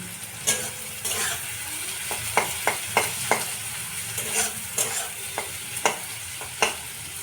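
A generous amount of onion fries in a pan with a steady sizzle, while a spatula taps and scrapes against the metal in a loose rhythm, close and fairly loud, with no one speaking.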